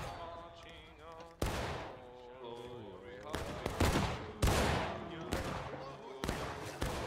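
Gunfire from a Civil War video game battle, a few loud rifle volleys cracking at uneven intervals with rolling echoes, interspersed with shouted voices and distant combat noise.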